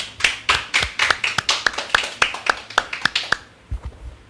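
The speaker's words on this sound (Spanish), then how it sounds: "Amado, denle un aplauso al Señor si estás entendiendo." A church congregation claps in a loud, close, rhythmic unison beat of sharp individual claps for about three and a half seconds before it stops, followed by a few scattered softer sounds.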